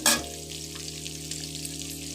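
Something fries lightly in a pan while a mashed dried-fish dish is being made. A brief loud burst of sizzling opens, then settles into a steady, moderate frying hiss.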